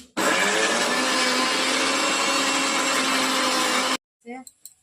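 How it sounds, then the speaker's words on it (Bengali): An electric mixer grinder grinding spices roars loudly and steadily for about four seconds, then cuts off abruptly, followed by brief clattering handling sounds. "মিক্সারটা অন করি।"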